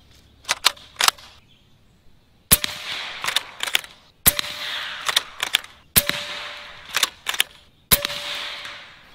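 An AEA Megalodon pump-action air rifle fires 235 grain slugs: eight sharp, loud cracks in pairs, each shot followed by the rattle and clack of the pump action being cycled, with no talking.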